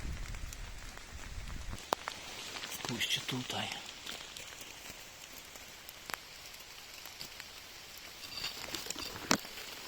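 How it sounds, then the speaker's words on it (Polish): Steady pattering rain on leaves in a forest, close and continuous, with a short spoken remark and a few footsteps or rustles mixed in. "Cały czas pada deszcz."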